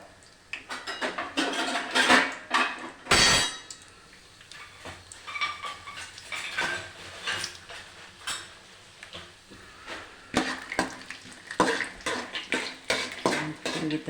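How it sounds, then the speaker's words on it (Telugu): Peanuts roast in a pan while a utensil stirs and scrapes them, giving irregular clinks and rattles with brief pauses, fairly close and moderately loud. "శనగిత్తనాలు బాగా వేయించుకోవాలి."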